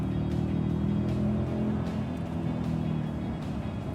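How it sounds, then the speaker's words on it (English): A car engine pulls hard under full throttle at Toyota's test facility, a loud, steady, close drone with a rough low rumble that holds throughout. "I'm gonna punch the accelerator"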